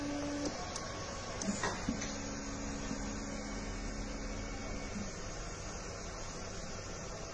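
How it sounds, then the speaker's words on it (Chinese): A high-end German-designed desktop PEEK 3D printer lowers its build plate. A steady motor whine hums for about three seconds over a faint background hiss, with a couple of soft clicks before it. "打印板将下降至安全高度"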